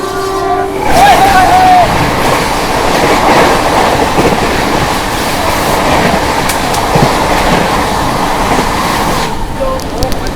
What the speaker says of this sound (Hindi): सामने से आ रही है 12314 क्वीन ऑफ इंडियन रेलवेज नई दिल्ली सियालदा राजधानी एक्सप्रेस